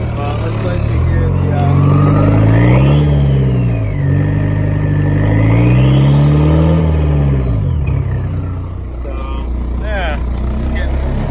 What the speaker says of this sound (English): you can hear it's definitely a diesel, though you get a little vibration.